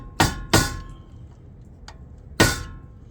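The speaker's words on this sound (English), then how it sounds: "get a flathead and a hammer and just bend this side in" Three sharp metallic hammer strikes on a flathead screwdriver, bending a car shifter cable part, two in quick succession then a pause, with a faint tick between; close and loud.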